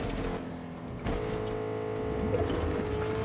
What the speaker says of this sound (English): making all kinds of noise with this truck